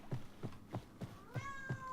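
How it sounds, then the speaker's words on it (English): A pet cat named Lily meows clearly and close, one drawn-out call near the end after a series of soft rhythmic thumps, with no talking over it. "I think that's our cat Lily."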